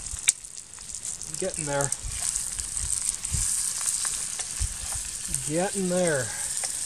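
Onions frying in a pan at an overnight backpacking tarp campsite, giving a steady bright sizzle throughout, with a voice speaking briefly over it twice.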